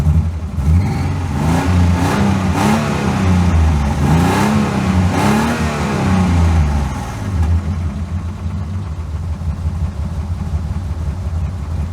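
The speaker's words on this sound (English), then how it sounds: "So the sound of the engine is very specific. It's like a very old sound." An old 1984 BMW 533i engine revs up and down several times in rising and falling swells, loud and close, then settles to a rough idle.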